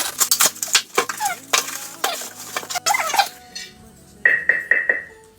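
A clay pot for cooking fish, packed for courier shipping, is unwrapped up close: a quick series of crinkling, tearing packaging noises, then a few bright clinks of the pot being handled.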